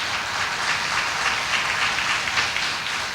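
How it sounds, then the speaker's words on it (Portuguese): A church congregation gives a big round of applause after a scripture reading, a thick continuous roar of clapping that holds steady and loud throughout. "Eu convido você a dar uma grande salva de palmas à palavra do Senhor."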